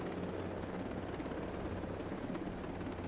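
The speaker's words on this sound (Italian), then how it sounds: "Non so quanto ci conviene andare avanti con l'elicottero, ma mi sa che lo parcheggiamo qua." A helicopter in the video game Ghost Recon Breakpoint sends out a steady, even rotor drone that sits low and constant, with no voices over it.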